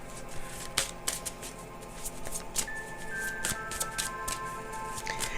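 A deck of cards is shuffled at close range in quick crisp bursts of riffling and snapping, with a faint thin tonal whine running underneath.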